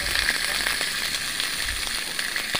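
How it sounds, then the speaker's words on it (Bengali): Spices with ground cumin fry in a pan with a dense, even sizzle and crackle, close up and steady throughout, alone with no voices. "এখন মশলাগুলো সুন্দর করে ভেজে নিচ্ছি, নেড়ে চেড়ে ভেজে নেব।"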